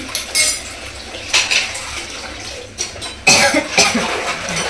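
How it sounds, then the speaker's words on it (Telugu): A knife cuts food held in the hand rather than on a board while mutton curry is prepared at home: irregular scraping, slicing strokes with occasional clinks of utensils, close and fairly loud, with no talking. "అందుకే నేను చేతుల దగ్గరనే కట్ చేస్తాను"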